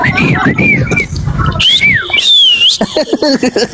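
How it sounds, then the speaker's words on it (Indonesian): Someone whistles a wavering, sliding tune up close and loud, with bird-like chirpy notes, followed by rapid short repeated whistle bursts. "dengar siulan gua"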